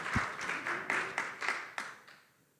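A small audience applauds a Gen Z guest group at a talk, with a scatter of claps and a few sharper accents that settle and thin out toward the end.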